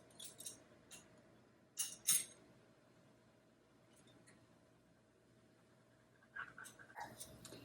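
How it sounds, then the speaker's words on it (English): Quiet kitchen sounds mix with a dog panting faintly in the background in short bursts of quick breaths. A few light clinks and clicks break the near silence between them. "That's my dog in the background."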